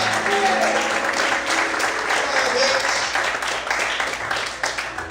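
A church congregation claps steadily and loudly for several seconds, with a preacher's voice running over the applause.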